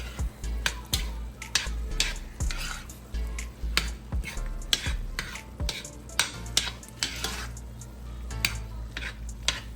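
Ground beef with chopped onion and garlic cooks in a pan, carried by a steady low hum and punctuated by repeated sharp clicks and scrapes of a utensil against the pan at an irregular rhythm, with no talking.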